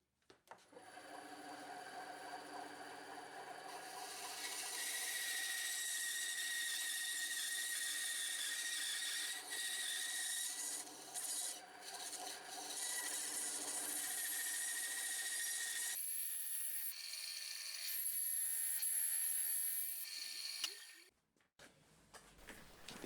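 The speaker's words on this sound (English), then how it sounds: "Time to go back to the bandsaw." A bandsaw cuts wood for a box: the blade whirs up, then holds a steady high whine through a long cut, with brief dips as the wood is fed, before the machine spins down and a few clunks follow.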